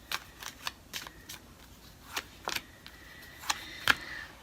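Tarot cards being shuffled and drawn, with soft riffling and scattered sharp card snaps and flicks, close and fairly quiet, with no talking.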